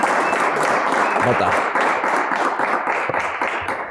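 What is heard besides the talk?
audience applause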